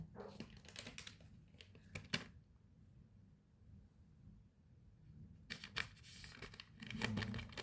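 A cat lollipop's plastic package being torn open, with crinkly tearing and rustling bursts at the start and end and a quieter stretch between.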